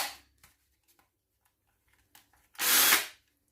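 A Stanley Fatmax V20 cordless hammer drill spins up in one loud, whirring burst of under half a second, after a few faint handling clicks and taps in an otherwise quiet room.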